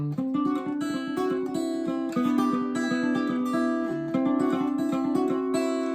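A steady, rapid stream of fingerpicked guitar notes plays a banjo-roll pattern, rolling along bright and continuous, close and clear, with no talking.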